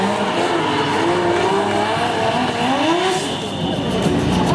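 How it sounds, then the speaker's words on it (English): At a Formula Drift event, a drift car brakes hard into initiation, its engine roaring loud and close with sustained tire squeal and rising and falling revs. "Watch the heavy braking right here."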